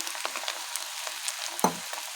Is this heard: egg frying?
yes